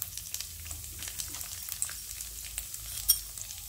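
Fenugreek, chana dal and urad dal roasting in a pan for sambar powder: soft, faint dry frying crackle and light stirring scrapes, steady and low throughout.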